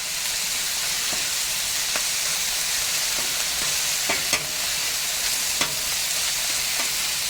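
Chorizo and potatoes fry on a Weber Slate flat top griddle with a loud, continuous sizzle, punctuated by scattered scraping taps of a spatula breaking up the meat.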